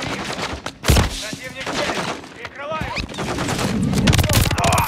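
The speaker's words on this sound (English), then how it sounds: "There's enemy fire!" Rapid bursts of enemy automatic gunfire in the video game Call of Duty: Modern Warfare 3, loud and continuous with sharp individual shots, mixed with shouted voices and battle noise.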